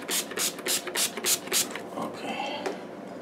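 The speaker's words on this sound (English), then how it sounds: "I have this to spray water." Quick bursts of a water spray bottle hiss close by during acrylic painting, about seven sharp squirts in a rapid rhythm, then quieter rustling.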